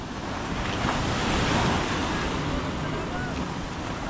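Big sea waves surging up a beach toward boats pulled up on the shore, a continuous loud roar of surf with wind buffeting the microphone throughout.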